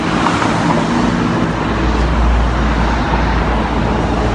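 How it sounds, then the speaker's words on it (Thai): Steady, close road traffic roars past at a street-side crossing near a taxi stop, a dense wash of car engines and tyre noise that holds level for the whole stretch. "ขออภัยกับเสียงรถด้วย"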